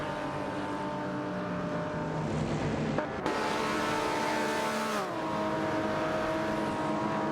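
Race cars in an AI racing video game drone steadily as engines whine at high revs, with a sudden shift in pitch partway through as cars pass. The engine noise is continuous and there is no talk.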